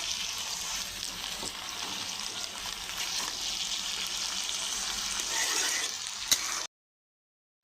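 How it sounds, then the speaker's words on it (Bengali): Leafy greens (shak) fry in a pan, a steady close sizzle with a bright hiss running for about six and a half seconds, one sharp clink near the end, then sudden silence. "শাক ভাজা হয়ে গেছে"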